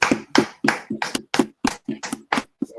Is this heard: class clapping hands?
yes